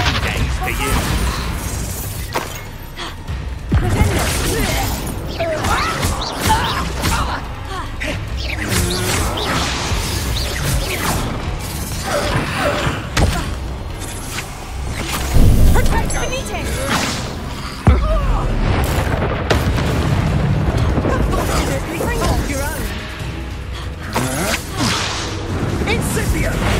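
Confringo explosion spell cast in Hogwarts Legacy combat, loud whooshing and crashing bursts in a dense, continuous battle mix, with a voice calling out over it.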